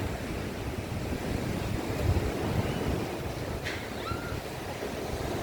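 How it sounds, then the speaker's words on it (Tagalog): Continuous roar of large ocean waves at high tide, heavy surf with rumbling low-end swells and steady wind buffeting the microphone; no voices. "Medyo malakas na ang alon ngayon sa mga oras na ito kasi high tide."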